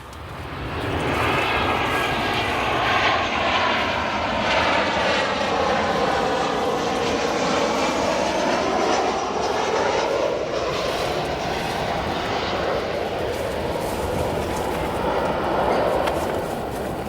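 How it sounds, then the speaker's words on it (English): An American Airlines Boeing 737 in oneworld livery arrives at O'Hare Airport, its jet engines a loud, steady roar with a shifting whine through the whole pass and no talking. "Go to our next arrival, a Boeing 737. American Airlines in the One World livery."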